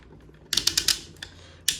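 A Legacy Cybertron Metroplex toy figure, nearly two feet tall, having its joints moved, producing a quick run of four or five loud ratcheting clicks, then a single click and another sharp click after a pause, close and with no talking.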